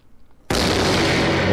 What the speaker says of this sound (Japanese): なんで人と人とがぶつかって爆発音するんだよ。